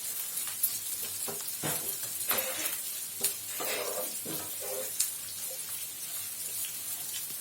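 Long-sliced onions fry in oil for tomato rice, a soft continuous sizzle broken by several clattering stirs of a spoon in the pan.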